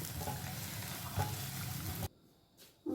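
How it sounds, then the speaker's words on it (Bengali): Egg with a pinch of salt is being scrambled in a wok, a quiet, even sizzle for about two seconds that suddenly drops to near silence before briefly returning at the end. "প্রথমে ডিমটা ঝুড়ো ঝুড়ো করে ভেজে নেব।"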